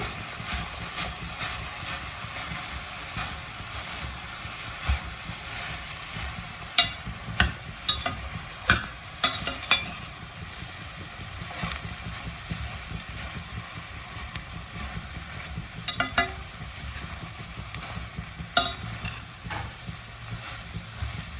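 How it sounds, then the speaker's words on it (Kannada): Basella leaves stir-fried in a spiced oil tempering, a low continuous sizzle with scattered sharp clicks and scrapes of stirring, close and fairly quiet throughout. "ಹೀಗೆ ಒಂದು ನಿಮಿಷಗಳ ಕಾಲ ಅಷ್ಟೇ ನಾನು ಒಗ್ಗರಣೆನಲ್ಲಿ ಈ ಸೊಪ್ಪನ್ನ ಫ್ರೈ ಮಾಡಿದ್ದೀನಿ"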